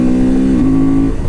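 Honda Transalp 750 2024 motorcycle engine dropping a gear with the quick shifter, a loud close steady drone that shifts pitch partway through, with no talk over it.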